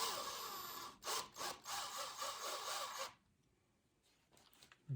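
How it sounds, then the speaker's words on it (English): A screw is power-driven through a small guitar pickup bobbin, giving a near, gritty whirring in several short bursts over about three seconds before quieter scraping and a final tap. "I'm just drilling the screw through this little bobbin"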